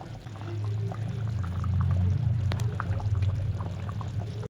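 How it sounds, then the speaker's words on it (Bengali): Water poured into a pot of chicken curry, a steady, close rushing gurgle that builds and holds for several seconds with a brief clink midway, no talking. "এবার আমি জল দিয়ে দেবো"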